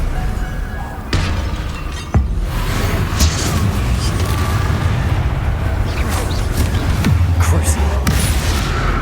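Confringo fire spell explosions in Hogwarts Legacy, loud booming blasts over dense continuous game action and music, with several sharp impacts across the clip.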